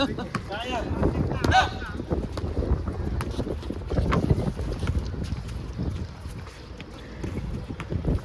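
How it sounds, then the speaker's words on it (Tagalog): Strong wind roars and buffets the microphone in a continuous low rumble, with voices briefly heard near the start. "Malakas yung hangin."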